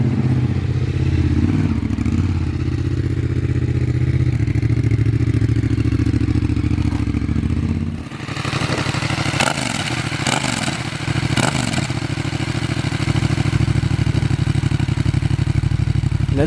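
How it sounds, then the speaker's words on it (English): A Yamaha MT-07 with an Arrow exhaust and the dB killer installed idles with a loud, steady throb, then gets a few sharp revs with mechanical clatter partway through before settling back to idle. "The initial startup is with the dB killer in"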